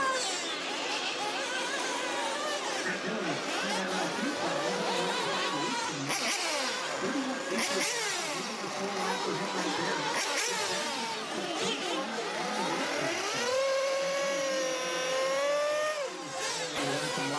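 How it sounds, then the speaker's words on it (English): An OS nitro engine in a 1/8-scale RC truggy screaming down the front stretch of an off-road RC race track, high whining revs rising and falling continuously, with other buggies and faint crowd chatter mixed in. "He has chosen the OSAD3 engine, and it sounds great down the front stretch."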